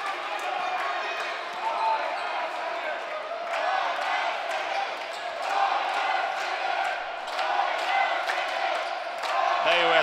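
A basketball arena crowd cheers and shouts from the stands, a fairly distant, continuous roar with swelling bursts, mixed with sharp court noises and commentary talking over it.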